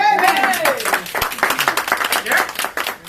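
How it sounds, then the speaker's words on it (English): Audience applause at a business talk, a burst of clapping from a crowd with voices and cheering mixed in throughout, fairly loud and close. "Give him a clap for that"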